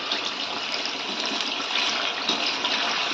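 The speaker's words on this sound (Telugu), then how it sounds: "మనకి డీప్ ఫ్రై అయ్యేంత ఆయిల్ తీసుకొని ఫ్రై చేసుకోవాలండి." Chicken pieces deep frying in oil, a dense steady hiss and crackle close up, alone and even in loudness throughout.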